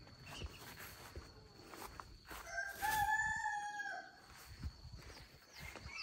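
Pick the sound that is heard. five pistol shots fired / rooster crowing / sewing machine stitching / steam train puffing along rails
rooster crowing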